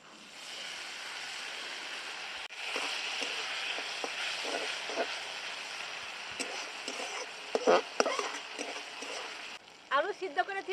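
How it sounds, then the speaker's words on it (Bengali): Water poured into a pan of cabbage and egg curry sets off a rising sizzle and bubbling hiss, with stirring clinks and a utensil scraping toward the end, soft and close. "এবার শিল ধোয়া জলটা দিয়ে দিচ্ছি।"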